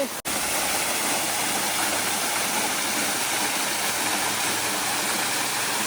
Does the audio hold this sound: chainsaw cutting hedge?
no